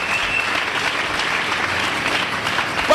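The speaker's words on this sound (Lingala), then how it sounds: "tobeti maboko mpo na yesu" A church congregation claps for Jesus in steady, dense, loud applause that lasts throughout without a break, and no one talks over it.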